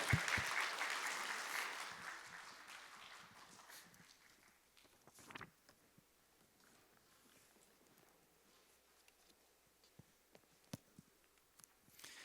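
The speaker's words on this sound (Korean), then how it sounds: "우리 환영하는 박수, 감사의 박수 하면서 모시겠습니다" A church congregation at a Thursday evening service gives quiet welcoming applause that fades away within a few seconds, followed by scattered soft footsteps and small knocks in a hushed room.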